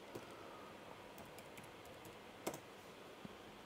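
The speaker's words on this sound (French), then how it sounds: "si je lance un terminal et que je tape" Faint, sparse clicks of fingers typing on a computer keyboard at a Linux terminal, a few scattered keystrokes against a quiet room background.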